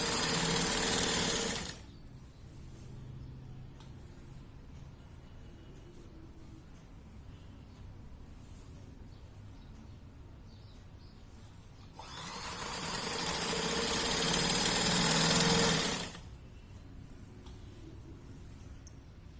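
A sewing machine stitches a five-year-old girl's Brahmin-style nine-yard sari, with two loud bursts of running, one at the start and one late on, separated by a long quiet gap.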